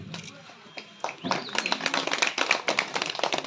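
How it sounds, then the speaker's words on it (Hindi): An audience at an award ceremony breaks into applause after a second of quieter sound, the clapping building into dense, uneven claps that carry on to the end. "थोड़ा तालियों में कमी ना रखें, थोड़ा जोर से"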